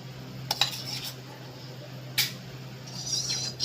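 Two spoonfuls of ghee go into a hot kadai on a gas stove, with sharp metallic clinks of a spoon against the pan and a faint sizzle building toward the end.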